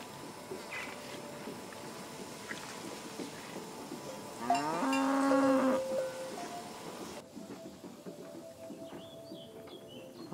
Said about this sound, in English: Farmer Layton's cows.